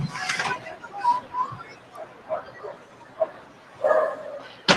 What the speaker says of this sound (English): I'm not sure if you can hear the dogs barking like we can.